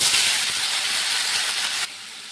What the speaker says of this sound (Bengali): আমি একটু সর্ষে ফোড়ন দিয়ে দিচ্ছি। এটা ঢেলে দিচ্ছি এবারে।